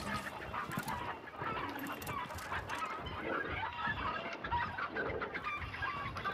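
Chickens cluck in a video game, a busy, continuous flock chatter of clucks and squawks at moderate level, not far off, with no talk over it.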